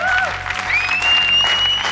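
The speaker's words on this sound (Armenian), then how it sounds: "Ծափահարենք" Audience applause at a gala show, a short burst of crowd clapping with whistle-like tones riding over it, loud and near.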